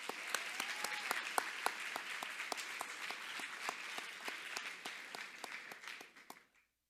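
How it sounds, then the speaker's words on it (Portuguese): Audience applause for a lecturer at a talk on innovation and lawyering skills, steady clapping for about six seconds that then fades out and stops, with no voices over it. "eu peço uma salva de palmas para o nosso querido palestrante"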